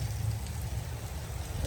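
Heavy rain in Patan falls as a steady, diffuse hiss with a low rumble underneath, moderately quiet and continuous with no voices.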